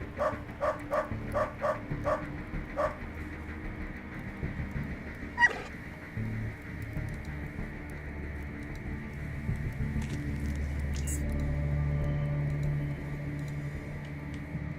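In the video game Underrail, a dog barks and yips in a quick run of sharp calls, followed by a whimpering squeal. Steady ambient game noise and low rumble continue underneath.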